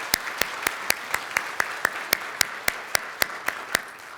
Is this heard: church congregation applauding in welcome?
yes